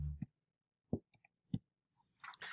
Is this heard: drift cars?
no